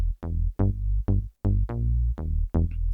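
Six bright, plucky synth bass notes with the high end turned up hit in sequence, each with a sharp attack and quick decay, separated by short gaps.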